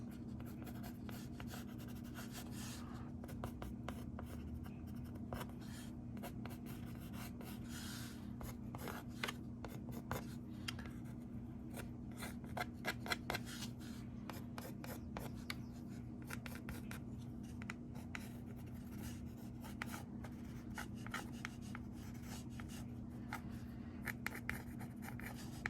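A pencil scratches steadily across paper while a flower design is sketched, close and soft, as continuous strokes and short scribbles over a low constant hum.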